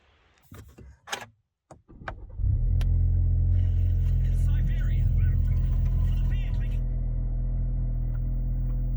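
A car sets off on an early-morning drive through the Trossachs in Scotland: a few brief handling knocks and clicks come first, then a steady, loud engine and road rumble holds from about two seconds to the end.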